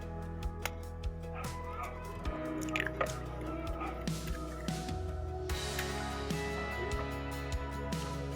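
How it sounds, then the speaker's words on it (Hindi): Eggs being beaten in a bowl for an egg and tinda curry, a quick run of light wet clicks and squishy taps from the whisking, fairly close and steady, with no talking over it. "अब हम इसमें अंडा फेंटेंगे।"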